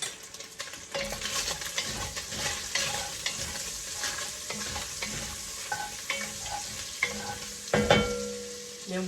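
Butter sizzles and crackles in a hot pan while being stirred, a steady close frying hiss with scattered pops and a louder clatter near the end.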